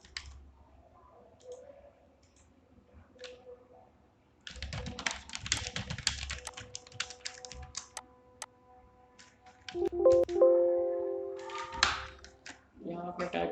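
Bursts of computer keyboard typing, rapid plastic key clicks in close uneven runs, broken by quieter pauses and a few mouse clicks, with a steady tone later.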